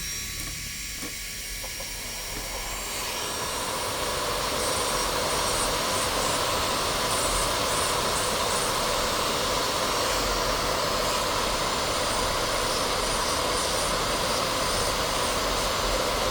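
Electric nail drill whirring at high speed while acrylic powder nail reinforcement is filed, a steady, continuous high-pitched whine that swells after the first few seconds and holds evenly to the end, with no speech.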